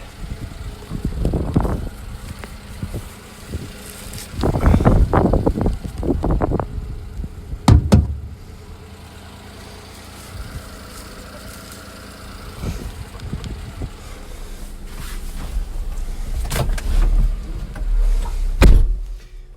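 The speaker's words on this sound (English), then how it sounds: "So let's go ahead and take this for a ride." A Daihatsu 4x4 Japanese mini truck, street legal, idles and pulls away with a mid-pitched engine hum, broken by a few sharp clunks like doors or shifting, with the engine note rising toward the end.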